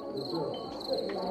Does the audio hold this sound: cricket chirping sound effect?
yes